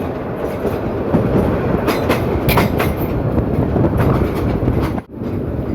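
A commuter train pulls into Fatullah railway station with a loud, close, continuous rumble and rhythmic clatter of wheels over the rail joints, running steadily for several seconds with a brief dip near the end.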